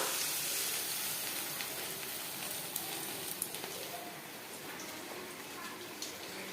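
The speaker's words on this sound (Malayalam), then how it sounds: "ചൂടായ എണ്ണയിലേക്ക് നമ്മുടെ ഈ ചിക്കൻ ലോലിപോപ്പ് ഓരോന്നോരോന്നായി ഇട്ട് കൊടുക്കാം കേട്ടോ." Chicken lollipops sizzle steadily in hot oil, a dense continuous crackling hiss with scattered small pops, close and fairly quiet with no talking.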